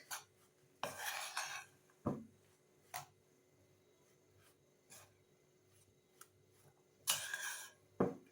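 A utensil stirs mashed ingredients for a spiral pie in a bowl, making intermittent scraping and clinking strokes at irregular intervals, close and fairly quiet.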